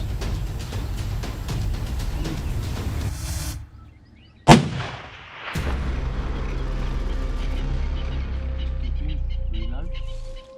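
A single loud rifle shot at a kudu bull in open bush, a sharp crack after a hushed pause, followed by a rolling echo, then a low, steady background.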